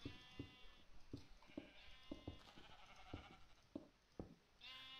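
Sheep bleating in the Minecraft video game, several short wavering bleats spaced irregularly over a series of soft rhythmic clicks, no talk.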